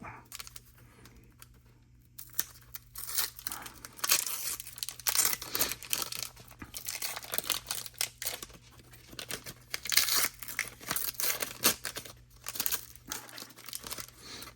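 Waxy wrappers of vintage baseball card packs tear and crinkle in rapid bursts, close and fairly loud, one pack after another without speech.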